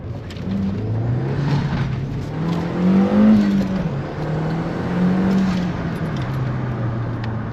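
Audi TT engine revving hard with no air filter, a loud, close throaty roar that climbs and falls in pitch across several rising and easing throttle blips, with no talk over it.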